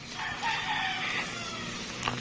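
A rooster behind a net in a rural yard in Laiya, San Juan, Batangas gives a faint crow with some clucking, quiet and somewhat distant, alone without voices.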